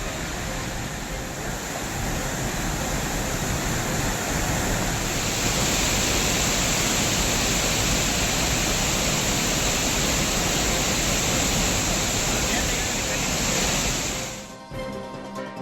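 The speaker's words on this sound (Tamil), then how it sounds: "தொடர்ந்து நீர்வரத்து அதிகரித்து வருவதால் 2வது நாளாக அருவிகளில் தண்ணீர் ஆர்ப்பரித்து கொட்டுகிறது." A waterfall in the Theni hills roars steadily after heavy rain, a loud continuous rushing wash of falling water that fades abruptly near the end.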